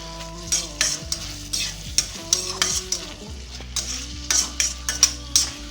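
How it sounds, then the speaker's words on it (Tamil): Tomato, onion and garlic sizzle steadily in a pan for prawn thokku while a spoon stirs and scrapes repeatedly, close and alone with no talking. "திறந்து இப்படி கிளறி விடுங்க. இப்படி தக்காளி வெங்காயம் பூண்டு எல்லாம் ஒன்று போல் வேகட்டும்."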